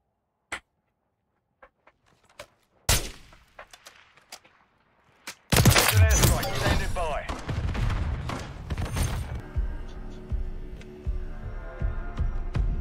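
Gunfire from the Sidewinder in a video game: a few isolated sharp shots, then a sudden loud burst of rapid firing with chaotic blasts and clatter trailing off. Someone talks through the action.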